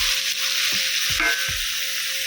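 Steady, loud sizzling of dried shrimp and garlic frying in hot oil in a wok, with a few soft scraping stirs at intervals.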